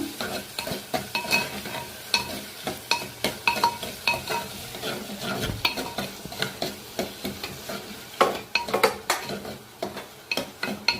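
Chopped red onion pieces fry in an oil-filled pan for an Andhra eggplant, raw mango and prawn curry, with steady sizzle under repeated scraping stirs and spoon clinks against the pan, close and continuous.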